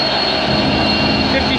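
CN freight train locomotives passing at Bayview Junction, a loud, steady low diesel roar with a sustained high whine, close and continuous through the short stretch.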